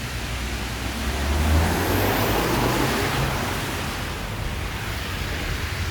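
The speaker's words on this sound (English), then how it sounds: "Here, there's cars." Cars passing on a road on a walk through a city: a loud, continuous rushing wash of traffic noise that swells briefly, then settles into a steady roar.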